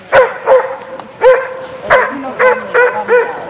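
A dog barking outdoors among reindeer, a series of about eight sharp, loud barks close by, coming in an irregular rhythm with brief whimpery yips between them.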